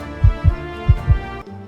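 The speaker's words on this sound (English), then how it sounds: "Your heartbeat is very steady now." A steady heartbeat thumps in two even pairs of deep, close pulses, each double beat spaced evenly, over a faint background hum.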